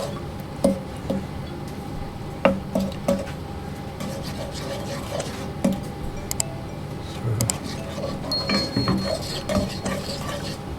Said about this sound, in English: And our cranberries and apricots. I'm just going to give that a stir in.